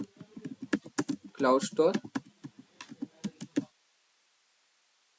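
Rapid clicks of computer keyboard keys being typed to search for Firebase, a string of sharp taps mixed with a person talking, ending abruptly in silence.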